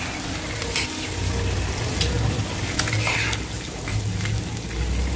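Eggs seasoned with turmeric, salt and chili powder fry on a tawa over low gas, making a steady close sizzle with sharp crackling pops over a faint low hum.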